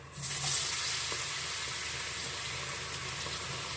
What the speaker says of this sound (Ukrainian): картоплю викладаємо на сковорідку